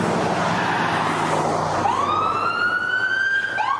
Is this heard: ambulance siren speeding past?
yes